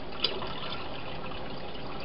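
Water rising in a container during a displacement demonstration, a steady soft liquid wash with one brief click near the start and no voices.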